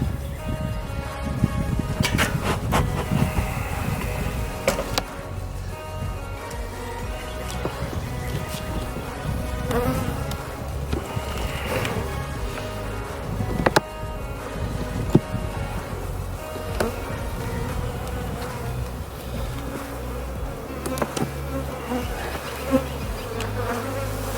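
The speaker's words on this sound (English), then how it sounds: "I see a lot of bees in all the frames." Dense, steady buzzing of many bees close by in an overwintered hive being opened, continuous throughout with occasional light clicks and knocks.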